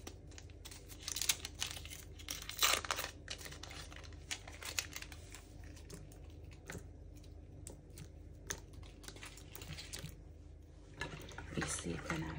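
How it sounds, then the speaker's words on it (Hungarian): Fresh yeast is crumbled by hand into lukewarm milk and water in a bowl, giving soft, irregular crinkly crackles and light patters, close and faint, with brief watery touches. "És most hozzá morzsolom az élesztőt."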